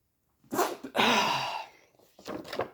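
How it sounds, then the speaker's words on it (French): A single close sneeze with a sharp intake and explosive burst, followed by a brief pause and some faint breathy sounds. "Attendez, éternuer"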